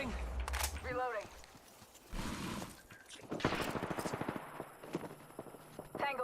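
Gunfire in the battle-royale game Apex Legends, bursts of rapid shots and impacts in close-range combat, mixed with game effects and player voices talking over the action.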